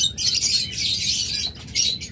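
Lutino red-eye Fischer's lovebirds chirping in a bird seller's enclosure, a dense, continuous chorus of shrill overlapping chirps and squawks, loud and close, with a short dip before another burst.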